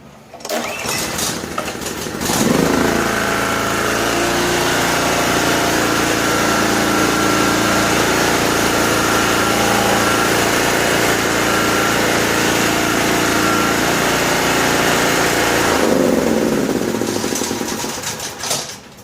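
A Honda EB2500 generator engine starts after a few seconds of handling noise, runs at a loud, steady close drone, then winds down near the end.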